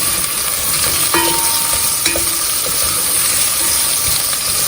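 Okra and onions fry over a high flame in a pan, a loud constant sizzle with occasional clinks and scrapes of a spoon stirring, close and continuous.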